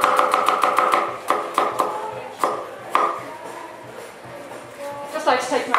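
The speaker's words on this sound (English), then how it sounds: "We need some finely chopped onions." Knife chopping onions finely on a board at a live cookery demonstration at a food fair, a quick run of sharp regular taps followed by slower scattered strokes, with a voice talking over the chopping and a busy room behind.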